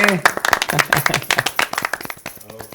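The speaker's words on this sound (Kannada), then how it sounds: "ಸೊ ಬಲ್ಲಿ ಒಂದು ಚಪ್ಪಾಳೆ" Quick bursts of hand clapping for a game show contestant, several people clapping in a rapid irregular patter that fades toward the end, mixed with voices.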